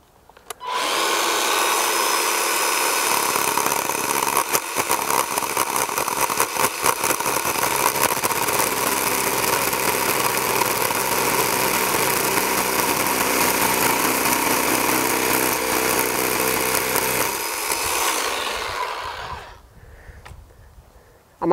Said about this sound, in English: I'll take the chainsaw and do another cut so that I don't have to go all the way to the bottom with one